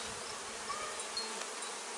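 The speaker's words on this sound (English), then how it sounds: "Absolutely full of bees." A dense, steady buzz of honeybees fills the air inside a packed hive being inspected, many wings droning together at close range with no pauses.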